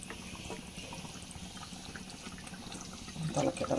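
Chicken roast gravy bubbles and simmers in a pan with a faint, soft crackle close by. The sizzle grows louder and busier near the end, and no one talks over it.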